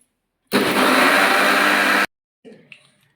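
A kitchen mixer grinder whirs loudly and steadily for about a second and a half while blending ingredients with water, then cuts off abruptly, followed by a brief soft clatter.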